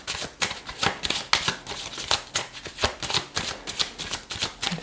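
Tarot cards are shuffled continuously by hand, a quick irregular run of close riffling and slapping flutters with no speech over them.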